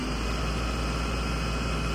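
A BharatBenz 1924 13.5 m bus engine roars at high revs with a steady, dense, loud drone and no pauses.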